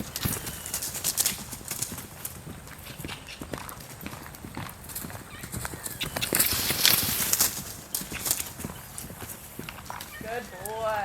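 Horse cantering under a rider during a training session, with steady rhythmic hoofbeats close by throughout, while a person talks over it.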